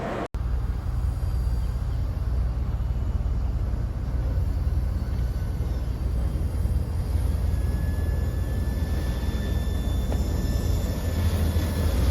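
CSX local freight train L762 running caboose first past a trackside listener near a station spur, a heavy continuous low rumble of rolling cars with faint metallic squeals and a high steady whine over it, loud and unbroken throughout.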